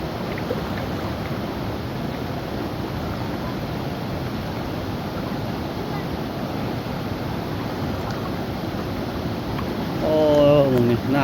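Floodwater rushes through a breach in an irrigation canal during flooding, a steady loud broadband roar like surf, with wind buffeting the microphone and a brief higher tonal sound near the end.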